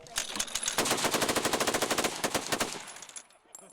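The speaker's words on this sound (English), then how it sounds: "I gotta shoot Theodore Roosevelt's Gatling gun" Teddy Roosevelt's historic Gatling gun fires a loud, rapid continuous burst of evenly spaced shots for nearly three seconds, then the reports trail off into a few scattered echoes.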